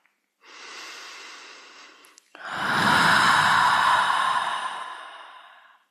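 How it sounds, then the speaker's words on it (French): A long, deep breath: a steady inhale through the nose, a brief pause, then a fuller, louder exhale that slowly fades. "prenez une profonde respiration."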